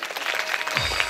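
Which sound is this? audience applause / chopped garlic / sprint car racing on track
audience applause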